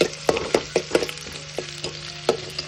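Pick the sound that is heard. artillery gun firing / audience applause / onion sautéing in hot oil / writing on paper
onion sautéing in hot oil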